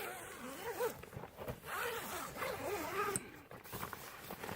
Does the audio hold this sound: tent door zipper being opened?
yes